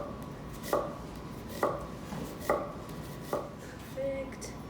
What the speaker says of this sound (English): I'm gonna go ahead and cut it in half and then slice it this way.